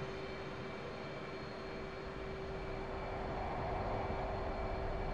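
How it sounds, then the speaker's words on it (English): Twin jet engines of an F/A-18C spooling up in the DCS flight simulator game, a steady, dense roar with a constant whine tone, holding level and unbroken throughout. "I'll advance the throttles."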